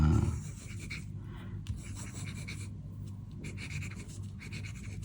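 A fountain pen with a number 6 nib writing on cheap paper, soft scratchy strokes in short bursts with brief pauses, close and quiet, with no talking.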